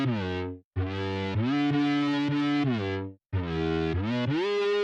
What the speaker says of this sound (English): Distortion into chorus.